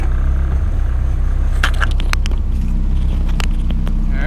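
A Ford Escort's engine runs after a clutch bleed, a loud, close, steady low rumble with a few scraping, crackling clicks and knocks over it partway through.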